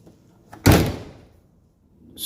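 A car door on a 1983 Oldsmobile Cutlass swings shut with one loud, close solid slam that rings briefly and fades, with another faint noise starting at the end.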